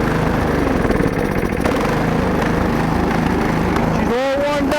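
A warmed-up snowblower engine runs at a rough idle, loud and close, with a steady sputtering chug that cuts out near the end, followed by a brief squeal.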